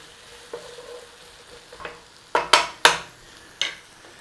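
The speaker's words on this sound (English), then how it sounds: "Garlic, onions. Come on, a little bit of a sizzle on in there." Irregular bursts of onions and garlic frying with stirring scrapes in a pan, several sharp hisses close together near the middle, with quieter crackling between.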